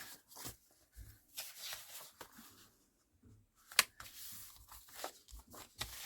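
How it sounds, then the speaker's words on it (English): Scissors cut white borders off paper journaling pages, a series of close, quiet snips and papery rustles with a few short pauses between cuts. "I am going to cut the white off these."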